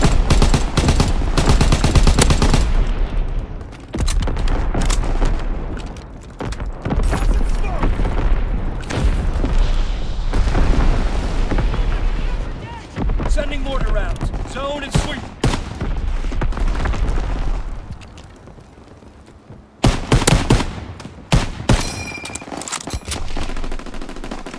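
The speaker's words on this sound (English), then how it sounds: "Artillery ready for orders, awaiting coordinates. Talking smoke. Coordinates confirmed," An artillery barrage in Call of Duty WWII lands as a rapid series of loud, heavy booms and crackling gunfire bursts, pausing briefly before a final cluster of close blasts, with game voices speaking over parts of it.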